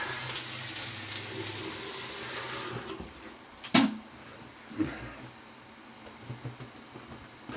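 Running tap water rinses alum from a freshly shaved face at a sink, a broad steady hiss for the first few seconds that then thins out, with a few brief splashes and knocks afterward.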